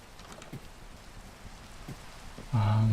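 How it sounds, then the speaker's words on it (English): Rain falling in the Minecraft video game, a soft continuous hiss with scattered faint drop ticks, before a louder low tone cuts in near the end. "That soft pitter patter of rain."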